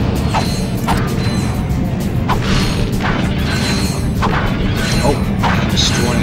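In the Ratchet and Clank video game, a thrown boomerang wrench smashes objects, giving repeated metallic clanks, crashes and rattling mechanisms over a dense, busy game soundtrack.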